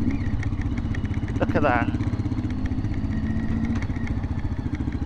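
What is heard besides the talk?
motorcycles idling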